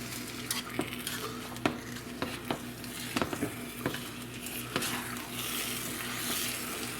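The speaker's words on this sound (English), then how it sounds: "Whisking the cheese around, whisking the cheese around" A whisk stirs cheese dip in a pot on the stove, with clicking and scraping strokes against the metal at an irregular pace over a steady low sizzle.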